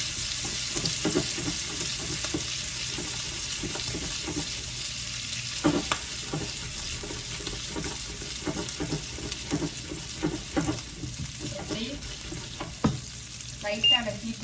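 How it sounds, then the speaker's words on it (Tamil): Squid pieces fry in a pan on low heat with a gentle, continuous sizzle, broken now and then by clinks and scrapes as the pieces are turned and moved around. "லைட்டான ஹீட்டில் நீங்கள் மாற்றி மாற்றி இப்படி வச்சு விட்டீங்கன்னா உங்களுக்கு நல்லா ஃப்ரை ஆகும்."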